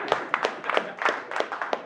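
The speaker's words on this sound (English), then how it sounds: "And we clap." A small group claps for a couple of seconds, an uneven patter of hands at close range with no voices.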